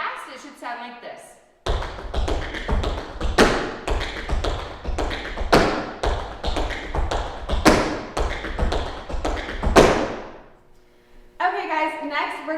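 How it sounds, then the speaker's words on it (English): Fast tap dance paradiddle combination finished with a stomp: a dense run of crisp, rapid metal-tipped shoe taps with heavier thuds, loud and close, after a brief spoken lead-in, and talk resumes at the end. "And here's a fun paradiddle combo."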